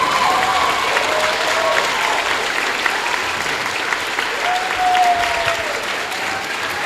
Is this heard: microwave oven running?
no